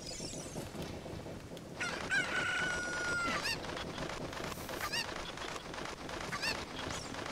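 Chickens in Zelda: Ocarina of Time give rapid clucks and a squawking crow-like call, layered over busy game sounds and music throughout.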